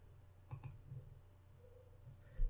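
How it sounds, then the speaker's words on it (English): A computer mouse clicks on a button in Power Query: a couple of sharp, light clicks in quick succession, close and quiet, with no speech. "now we need to click done"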